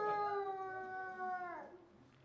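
A person imitates a dog howling with a single long, wavering howl that holds steady and then slides down and fades, close and moderately loud, with no other sounds around it.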